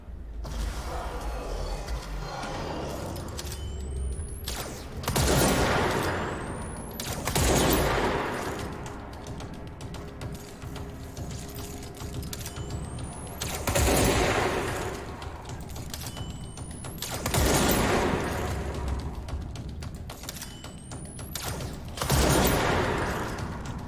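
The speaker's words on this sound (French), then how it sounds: "Que je tire plutôt bien, hein, mine de rien." Gunfire in the video game Control: repeated bursts of shots recurring every few seconds over a steady, busy game soundscape, with creaking, mechanical clatter and rising whine effects between volleys.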